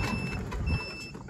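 Steady, evenly spaced electronic beeps from a Cricket RX5 golf cart's turn signal repeat over a low engine hum, fairly quiet and close.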